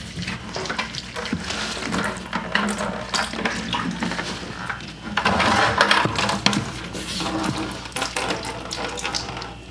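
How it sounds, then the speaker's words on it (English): Water drains from the hose of a commercial-grade laundry washing machine into a bucket, a close, uneven gushing and splashing that surges and ebbs over several seconds, with no speech. "take the hose out of the drain, put it in a bucket, and see if we can get the water out"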